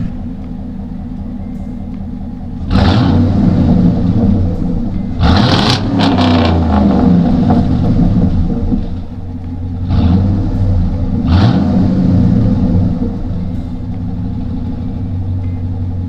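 A newly bought work truck's engine idles with a deep low rumble, then revs up in several loud bursts that fall back to idle between them, close by with no talking.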